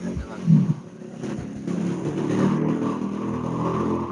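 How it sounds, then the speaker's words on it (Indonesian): A motorcycle passes outdoors, its engine rising into a steady close drone that holds loudly to the end. "Sebentar ya, ada motor."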